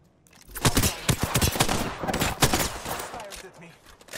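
Gunfire in Apex Legends on PS4, a close, loud flurry of rapid shots in uneven bursts over several seconds, with in-game sound and a voice mixed in.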